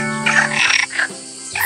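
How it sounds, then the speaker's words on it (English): A frog croaks in a few loud, rasping pulses close by, with a short pause between the calls. "F for frog."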